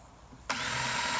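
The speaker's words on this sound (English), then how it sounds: "I just drill 3 holes" A power drill bores holes into a bucket used for composting, kicking in abruptly after a quiet moment as a loud, steady, high-pitched whine that holds close and continuous to the end.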